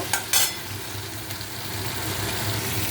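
Ground cumin, ginger and chilli fish masala frying in hot oil in a pan, with a sharp scrape or two at the start, then an even, close sizzle throughout.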